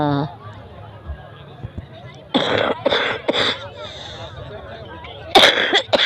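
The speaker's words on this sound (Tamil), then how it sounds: "சும்மாவே இருமல்" Several rough coughs come close together in a burst after a quiet start, followed by another harsh cough near the end.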